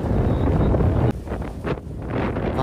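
A small boat arrives through a dredged channel over shallow reefs at Silverfish Island in the Xisha (Paracel) Islands, while strong wind roars across the microphone, loud and steady before easing after a brief cut.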